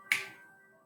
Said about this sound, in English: when I say 3 and snap my fingers